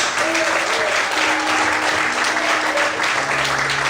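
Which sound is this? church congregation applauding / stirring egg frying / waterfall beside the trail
church congregation applauding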